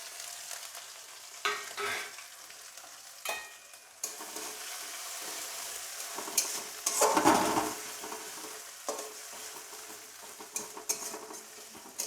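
Whole cumin, fennel, dried red chillies and whole garam masala frying in hot oil make a steady close sizzle, broken by scattered clinks and scrapes of a utensil against the pan.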